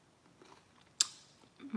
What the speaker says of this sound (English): So let me eat a little grape while we're waiting on people to come back